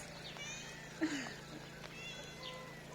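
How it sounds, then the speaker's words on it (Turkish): A cat meows outdoors in a natural setting near water at Seferihisar, giving one short, fairly faint cry over a quiet background hum, with weaker mews around it. "Orada bir kedi var miyavlıyor."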